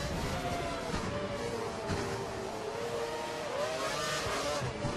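A Formula One car engine howling at full revs in the racing video game F1 2012 at the Brazil round, a steady loud high-pitched whine that wavers slightly in pitch throughout, with no voices.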